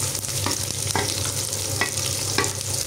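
Onion and green chilies sizzle steadily in a hot pan, a dense continuous frying hiss with a few soft stirring scrapes, close and fairly loud with no talk.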